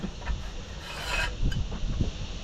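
A caravan wall bracket end piece is unscrewed and pulled out, giving soft scraping and rubbing with a few light knocks, close and quiet, with no voices.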